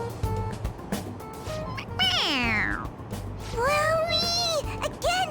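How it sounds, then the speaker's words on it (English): A toy cat from the game Persona 5 Royal meows twice when its head is pressed, two clear rising-then-falling cries over quiet game background music and ambient sound. "It meows when you press on its head."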